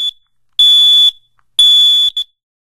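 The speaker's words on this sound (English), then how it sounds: "Test all your smoke alarms at least once a month by pushing the test button like this." A smoke alarm beeps loudly when its test button is pressed: two long piercing tones, then a brief chirp, with silence between them and no other sound.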